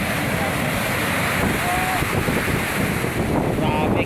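Big waves crash on a shore under a strong northeast monsoon wind, a loud continuous roar of surf and gusting wind buffeting the microphone, with a faint whistle-like tone near the end.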